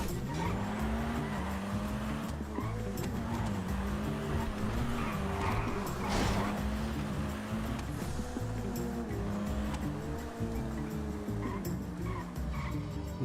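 A car in a video game drives with a continuous engine drone and repeated tire squeals from skidding, loud and sustained throughout with no pauses.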